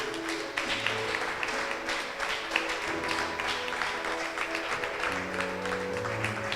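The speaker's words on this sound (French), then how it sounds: "On va encore acclamer le Seigneur pour le frère Lewis Sekra" A church congregation applauding the Lord together, a steady wash of clapping that holds at an even level throughout, with faint sustained tones beneath.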